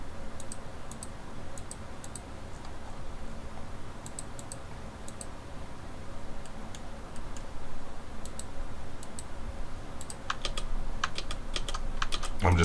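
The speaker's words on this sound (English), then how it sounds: "I'm just pressing Alt W" Rapid clicking of computer keyboard keys being pressed, close and crisp, in scattered short clusters over a steady background hum, growing busier near the end.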